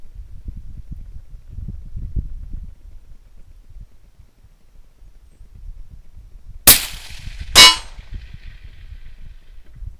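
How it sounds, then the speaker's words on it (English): A suppressed Remington 700 LTR rifle in .308 fires one loud, sharp crack with a SureFire suppressor, and under a second later a metallic clang rings out from a steel target hit at 800 yards, over low outdoor rumble. "This is a Remington 700 LTR SureFire suppressor, shooting at 800 yards,"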